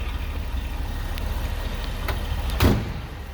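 A 1959 Ford Thunderbird engine idles smoothly under an open hood, a steady low rumble heard close, with a couple of faint clicks and a brief louder thump near the end.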